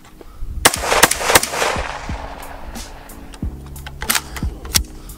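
AR-15 rifle firing at a shooting range, with several sharp, loud reports spaced irregularly and metallic clicks and clatter between them.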